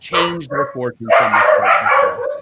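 Dogs bark and yip nearby in a few bursts while someone talks over them.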